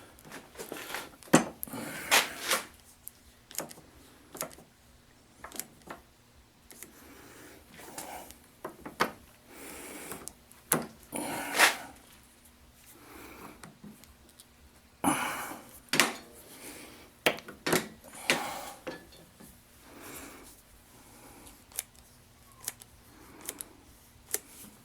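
A hand grease gun pumps grease into the fittings of a Harbor Freight ring roller, giving irregular close metallic clicks and clacks of the lever and gun with short pauses between groups of strokes.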